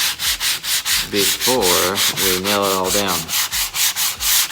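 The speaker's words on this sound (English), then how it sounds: "I'm just sanding these edges" Hand sanding along the edges of a wooden end table gives a loud, close, rhythmic rasping of quick back-and-forth strokes, steady throughout, with someone talking over it partway.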